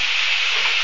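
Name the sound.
stir frying carrots, mushrooms and sweet corn with bacon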